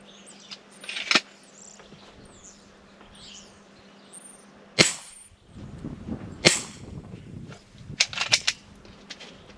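An Umarex IWI Mini UZI 4.5mm break-barrel air gun fires several sharp, close shots spaced a few seconds apart, with birds chirping faintly outdoors in between.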